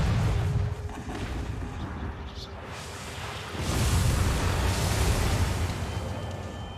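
Cannon fire rolls through a video game battle as a dense, continuous barrage of deep rumbling booms, loud and close, easing slightly before swelling into a heavier roar midway and holding there, with no voices on top.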